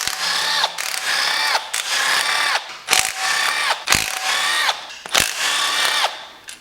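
A power tool whirs in repeated short bursts, stopping and starting as it backs out the oil pan bolts around the perimeter of a Chrysler 3.2/3.6 Pentastar engine, loud and close with brief pauses between each bolt.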